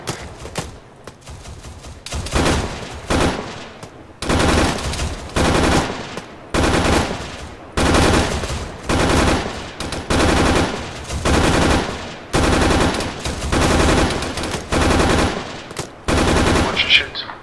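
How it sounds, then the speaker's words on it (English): A machine gun firing in rapid bursts at a military range, with loud sustained strings of shots repeating at regular intervals and short gaps between them. "Rapid fire."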